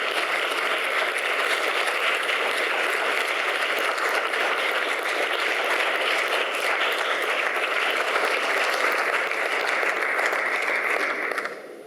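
Sustained audience applause at the Florence Queer Festival for two Iranian film directors, steady and dense clapping throughout that fades slightly at the very end.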